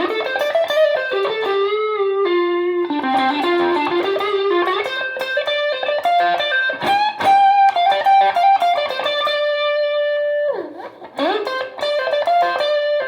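Relic Stratocaster electric guitar played through a Fender Blues Junior amp with distortion and a little reverb, a loud run of overdriven sustained notes and chords with bends and strums, ringing tails, played alone without talk.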